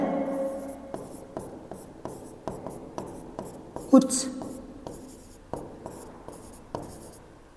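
Marker or chalk strokes on a classroom board, a series of short scratchy bursts spaced through the stretch, one louder squeak near the middle, heard under a man's lecture in Hindi.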